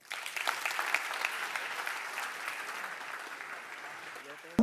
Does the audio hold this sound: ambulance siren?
no